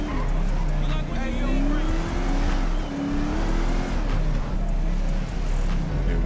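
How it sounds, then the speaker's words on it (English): A supercharged 2015 Mustang on 28-inch wheels drives in GTA 5, its loud engine droning continuously and rising and falling in pitch with the revs. "The sound of the supercharger, man."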